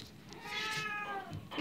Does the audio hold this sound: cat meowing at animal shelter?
yes